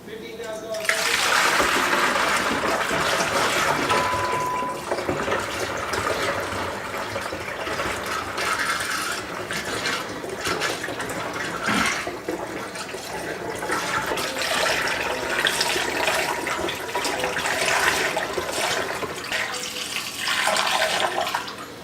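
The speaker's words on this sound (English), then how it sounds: "let's get this pouring in and let's get it aerated as well" Cyser, an apple-and-honey mead, poured into a fermenting vessel and aerated, a long rushing, splashing stream of liquid with sloshing and occasional clunks, heard under steady talk from a nearby voice.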